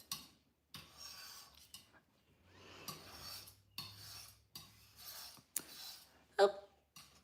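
Scraping strokes on a sign being made outdoors for a market booth, coming in repeated short bursts with brief pauses between them, close and moderately loud, with a low steady hum underneath.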